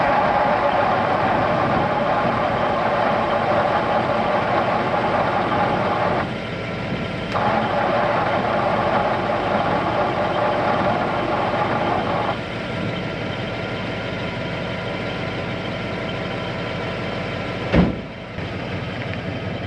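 A 1962 Ford Y-block truck engine cranks on a suspect, faulty starter, producing a loud, continuous whirring drone that runs nearly unbroken for about eighteen seconds before a brief thump and a quieter tail.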